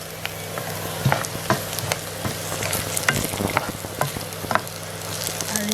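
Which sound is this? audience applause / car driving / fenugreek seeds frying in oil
fenugreek seeds frying in oil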